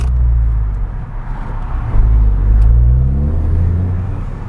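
Ford Fiesta ST fitted with a Milltek exhaust revs hard in first gear at night, a loud, steady low rumble rising in pitch as the engine climbs, heard alone with no talking.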